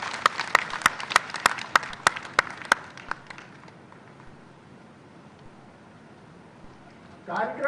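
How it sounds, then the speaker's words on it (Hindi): Scattered applause from a small audience at a community gathering in Madhya Pradesh, with a handful of loud individual claps over the first three seconds, then fading to near silence before a voice starts at the end. "चलिए इस बात पे एक बार जोरदार तालियां हो जाए।"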